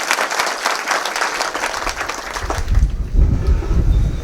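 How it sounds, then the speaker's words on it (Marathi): Applause from an audience at a guru worship ceremony for a yogi at an ashram, a dense crackling patter that starts loud, then thins into lower rumbling claps toward the end. "त्यांच्यासाठी पण जोरात टाळ्या वाजवा."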